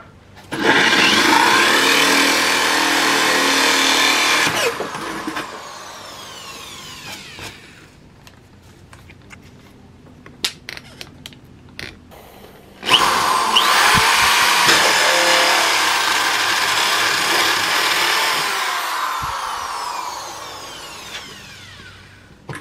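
A power tool saws through hard plywood while a quail feeder is being built, loud and steady for several seconds, then stopping for a quieter stretch of small clicks and knocks before the cutting resumes at full volume.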